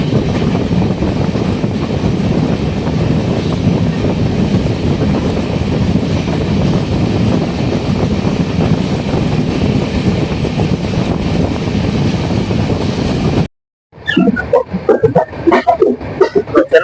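Cheran SF Express passenger train running from Erode toward Chennai, a steady loud rumble of wheels and wind-buffeted carriage noise throughout, cutting out abruptly near the end before brief scattered knocks and clatter.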